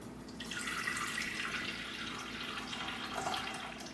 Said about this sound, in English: I normally fill to the top line using filtered water